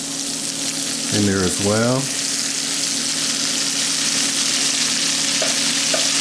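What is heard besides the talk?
butter sizzling in a pan with crispy-skin salmon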